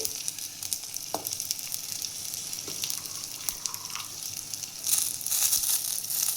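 Cumin seeds and ginger fry in a pan for an aloo paratha, making a continuous crackling sizzle broken by sharp stirring ticks, and the sizzle swells louder near the end. No one speaks.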